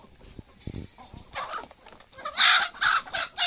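Native Filipino chickens clucking in a backyard where a goat is also kept, a few soft calls at first, then louder bursts of clucking close by, with no talk.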